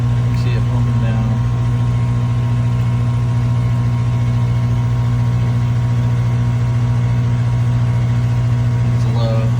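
An air conditioner running in cool mode hums steadily nearby, a constant drone with a strong low tone and no change throughout; a new evaporator coil is fitted on the unit.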